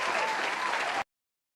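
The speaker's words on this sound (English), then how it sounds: "Let my clap sound effect play." A canned applause sound effect plays during a livestream, a dense burst of crowd clapping lasting about a second before it cuts off abruptly into silence.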